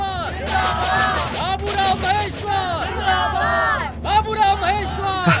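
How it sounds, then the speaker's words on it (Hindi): A crowd of villagers forms a dense, continuous hubbub of overlapping voices and shouts nearby, with no single speaker standing out from the babble. "सर देखिए कितनी भीड़ इकट्ठा हुई है।"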